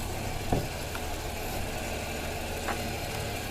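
A car engine with freshly replaced cylinder heads runs at a steady idle, a constant low hum with a couple of faint clicks on top, close and continuous with no talking.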